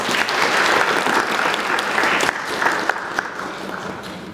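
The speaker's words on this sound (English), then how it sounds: "Thank you for your applause." Audience applause at a lecture concert featuring a string quartet, a loud, dense, continuous clapping from a full hall that fades slightly toward the end.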